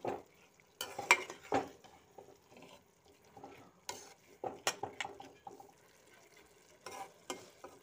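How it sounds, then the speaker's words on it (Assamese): A spoon stirs a masoor dal mixture in a cooking pot, making soft, irregular scraping and clinking strokes with light sizzling, close by and fairly quiet. "আটাইখিনি ধুনীয়াকৈ এনেদৰে মিক্স কৰি ল'লোঁ"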